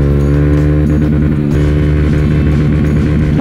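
A Honda CRF150L air-cooled motorcycle engine is held at its rev limiter, a loud, steady buzzing drone with dense harmonics that stutters briefly midway, running continuously up close with no talking.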